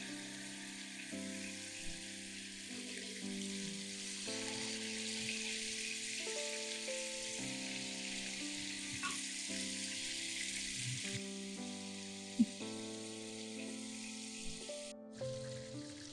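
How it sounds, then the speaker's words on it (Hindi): Chicken frying in half a cup of oil in a pan gives a steady, moderate sizzle with crackling texture throughout, accompanied by faint kitchen clatter and tonal background sounds. "1 घंटे बाद अब हम चिकन को फ्राई कर लेते हैं। एक पैन में शामिल करेंगे हाफ कप ऑयल।"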